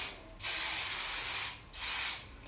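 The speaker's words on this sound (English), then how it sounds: "I'm going to go ahead and spray my hairspray." Hairspray sprayed onto curly natural hair in a puff style: two long, close, hissing aerosol bursts separated by a brief pause, with no talking.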